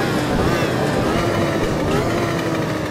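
A car engine drones steadily while driving, holding a fairly constant pitch with no clear revving, loud and continuous throughout.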